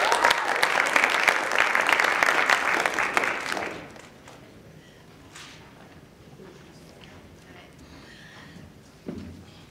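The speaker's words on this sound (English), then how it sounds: "please clap for John Murray" Graduation ceremony audience for a retail customer service and sales class breaks into loud, full clapping for about four seconds. It then drops off abruptly to quiet room tone with a few faint shuffles.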